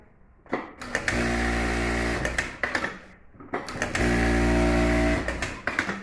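A Yuki Special industrial flat-bed sewing machine, just repaired, runs in two loud, close bursts of fast, even stitching hum a few seconds each, started and stopped by the pedal with clicks in between.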